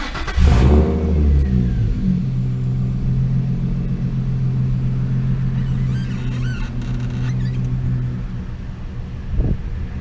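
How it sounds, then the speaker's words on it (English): A car engine is started and revved in an enclosed garage, a loud rising burst of exhaust settling into a steady close idle rumble, with a brief blip near the end. "Exhaust sound with the windows down."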